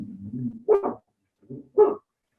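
Close dog barking: a low grumble, then two quick barks, a short pause, and one more bark.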